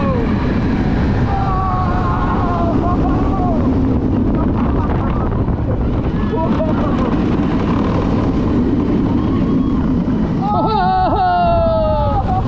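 Front-row ride on Pipeline, a surf-themed roller coaster, launching to 60 mph: loud, steady rushing wind roar throughout, with riders' voices and shouts over it and sharper screams near the end.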